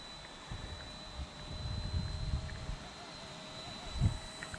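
Mini RC helicopter in flight outdoors while fighting the wind, giving a faint, steady whine with a thin constant tone and gusty low rumble, with voices talking excitedly nearby.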